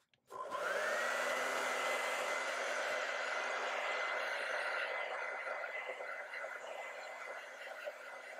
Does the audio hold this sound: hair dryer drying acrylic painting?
yes